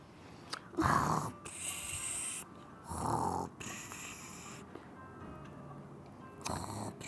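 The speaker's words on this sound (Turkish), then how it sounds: "Bir de burnunda geniz eti olduğu için birazcık horluyor gibi ses çıkartabilir" Two or three loud, raspy snores from a character in the game Toca Boca come in slow drawn-out bursts, with quieter breathy stretches between them and no talking.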